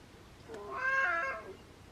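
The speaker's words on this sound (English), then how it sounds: "Can I do my class without you meowing?" A cat gives a single drawn-out meow, fairly quiet and close, rising then falling, with no talking.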